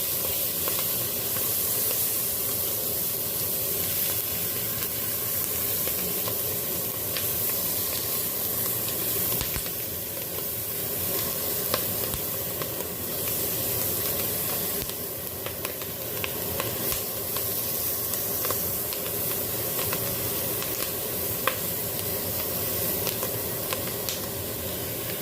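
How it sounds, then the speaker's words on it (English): Brussels sprouts sear in a Dutch oven for a keto pot roast, giving a steady, loud, dense sizzle and hiss with occasional stirring clatter that runs unbroken throughout. "start by throwing in a Brussels sprout to get a little bit of color on those"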